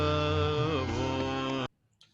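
A short melodic Garesa phrase in raga Bhupali, with sustained harmonic tones gliding between notes for under two seconds, then cutting off abruptly into near silence.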